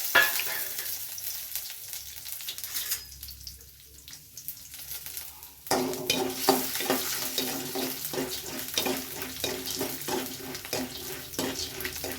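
Frying in oil in a home kitchen while making mint chutney: a steady sizzle with stirring clatter, briefly dropping quieter midway before resuming louder and busier, close up with no talk.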